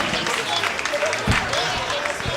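Audience applauding a comedian at a one-man comedy show, a continuous crowd clapping wash with a voice talking over it.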